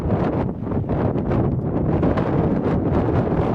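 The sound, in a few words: strong wind blowing into the microphone outdoors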